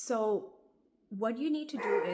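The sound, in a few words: pet dog barking at neighbor's dog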